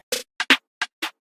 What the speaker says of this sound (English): Then another snare.